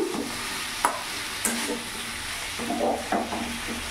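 Pumpkin mixture with grated ginger being stirred in a pan over a medium flame, a steady close sizzle broken by sharp scrapes and knocks of the spatula against the pan.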